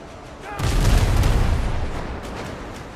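Ship cannons fire in the pirate video game Windrose as one heavy, close boom that rolls into a deep rumble and slowly fades.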